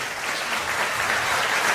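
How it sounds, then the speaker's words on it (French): Audience applause for the team at the inauguration of a production studio at Karukéraland in Guadeloupe, a loud, sustained, even burst of many hands clapping together. "Mesdames et messieurs, des applaudissements pour l'équipe,"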